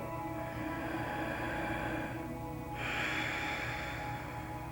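Slow, deep yoga breathing sits close and continuous, a breathy airflow with a shift partway through as an inhale turns to exhale, with no speech over it.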